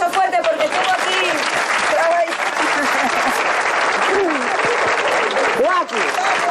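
Loud, sustained applause from a crowd at a village gathering in Llavandera, Gijón, with voices calling and talking over the clapping throughout.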